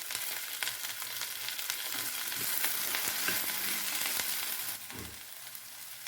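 Okra sautéing in oil for a stir-fried poriyal, a dense continuous sizzle with occasional stirring knocks, close and steady, softening briefly near the end.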